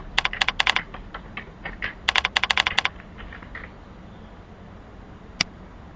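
Keys on a computer keyboard clatter in two quick bursts of sharp, close clicks with short pauses between them, then a single late tap, with no voices.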